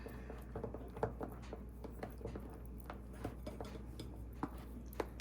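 Pistachio frosting and whipped cream are mixed in a bowl, giving soft, faint scraping and light clinks of a utensil against the bowl at an irregular pace.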